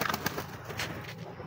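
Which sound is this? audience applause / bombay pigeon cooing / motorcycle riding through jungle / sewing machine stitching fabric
bombay pigeon cooing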